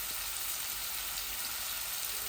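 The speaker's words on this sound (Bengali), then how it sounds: "ভাজা ভাজা করমু এই পেঁয়াজের সাথে। আর অল্প একটু রসুনের ফাঁকি দিমু" Onions and a little garlic frying in oil for a hilsa fish curry, a steady broad hiss of sizzling throughout with no talk, moderately loud and close.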